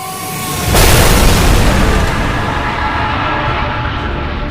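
A loud, booming explosion bursts in suddenly and rolls on as a sustained, rumbling roar that slowly fades without stopping.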